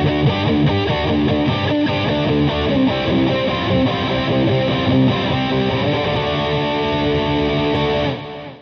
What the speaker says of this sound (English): And then nice rock tones as well.